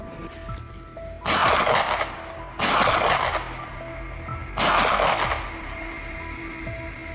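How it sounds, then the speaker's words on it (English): Three loud, sharp gunshots from a hunter firing at a wild boar ring out about a second or two apart, each with a booming echo that trails off over a quiet outdoor background. "As the beast turned its head, a decisive gunshot rang out."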